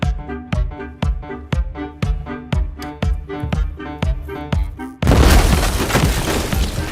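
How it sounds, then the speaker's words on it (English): A steady run of pounding, rhythmic beats gives way to a loud, roaring explosion that rumbles on until the end. "This explosion reignited John's excitement"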